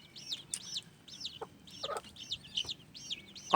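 Black Comet chicks peep in high, repeated chirps while a hen clucks low beside them in a coop, close and lively with no talk.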